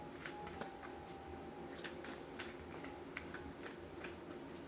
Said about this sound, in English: Let's shuffle the spread